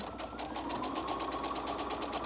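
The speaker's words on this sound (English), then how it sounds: "give it a little sew, stop, slow down, readjust" A sewing machine runs steadily through fabric for a cloth face mask, a close, even, rapid rattle of stitching that carries on without a break.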